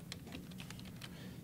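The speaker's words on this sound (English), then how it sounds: "So let me go in here and just type in some" Fingers type on a computer keyboard in a quick run of light, close keystrokes over a low background hum.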